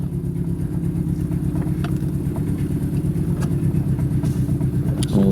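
A misfiring car engine idles steadily just outside a garage, a loud, close, low rumbling chug with an uneven pulsing beat and occasional faint clicks, running on alone without talk.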